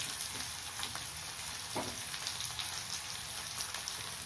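Onions sautéing in a pan with rock salt added for a Tamil coconut dal curry, giving a steady, soft, even sizzle throughout with a faint stir or clink partway through.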